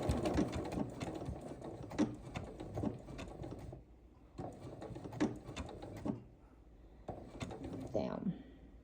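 A sewing machine stitches a straight line on a small Christmas mug rug, running in three steady whirring bursts with short pauses between, close but soft, with a voice faintly present.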